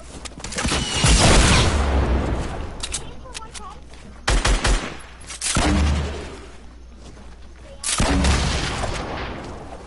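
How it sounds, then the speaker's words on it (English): Gunfire in a shooter video game, loud rapid bursts of automatic fire with booming impacts in several waves, close and punchy, with voices talking over the action. "He's shooting."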